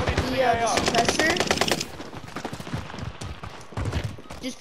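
Rapid automatic gunfire from a gun in Call of Duty Modern Warfare rattles loud and close for about two seconds, then gives way to quieter in-game clatter and a few scattered shots.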